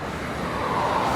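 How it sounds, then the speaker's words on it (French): A Shelby GT500 rolls past on a road after Le Mans Classic, a broad, steady engine roar that swells slightly toward the end, fairly loud and close, with no voices. "C'est quoi le monstre là qui arrive? Ok, une Shelby."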